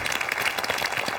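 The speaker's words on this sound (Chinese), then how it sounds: "来，掌声。" Studio audience clapping in a TV debate show, a brisk, even patter of many hands that stays steady throughout the short burst.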